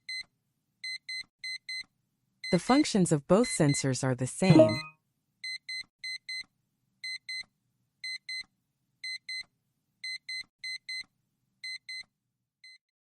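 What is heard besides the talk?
P13 printer print head sensor beeping alarm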